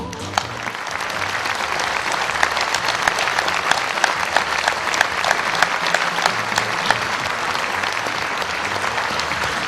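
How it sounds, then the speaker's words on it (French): A theatre audience at an amateur comedy performance claps steadily and loudly for about ten seconds, a dense even roar of many hands with a few sharper individual claps standing out. "Merci d'applaudir là-haut en régie"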